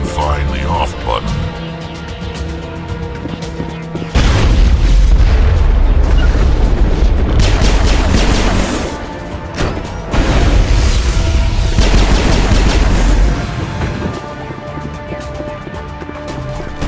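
Heavy booming blasts and bursts of explosions from a big gun in the sci-fi video game Mass Effect, loud and sustained in two long waves with rumbling low end, with game voices talking intermittently over the din.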